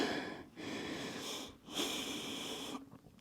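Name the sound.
deep breathing in through nose, out through mouth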